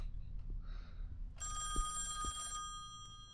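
An in-game telephone rings in the horror video game Song of Horror, a bright electronic ring lasting about a second over a low, quiet ambient drone with a few soft thuds.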